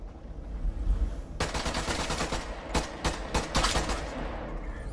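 Rapid bursts of gunfire from the Caliber video game rattle out in several sharp volleys after a quieter start, loud and close, with short pauses between the strings of shots.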